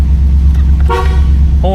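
A 1984 Oldsmobile 98 Regency's horn gives a short, loud toot near the end over a steady engine idle inside the car.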